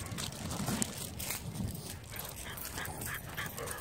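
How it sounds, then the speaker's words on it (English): Several dogs bark excitedly in a busy, overlapping frenzy, close and continuous, with yips and whines mixed in. "Frenzy of barking."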